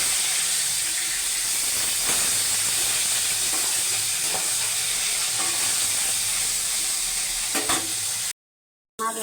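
Flipped katla fish pieces keep frying in hot oil in a wok, a continuous close sizzle with occasional stirring scrapes and pops before a brief silent gap near the end.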